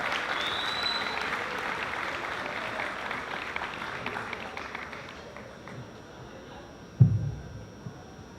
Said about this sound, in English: help me give a round of applause for Mr. Scott Shanklin, our principal